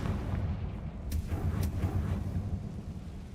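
A Confringo blasting spell explodes in the video game Hogwarts Legacy, a dense rumbling blast with two sharp crackling bursts over continuous low booming, fairly loud, with no talking.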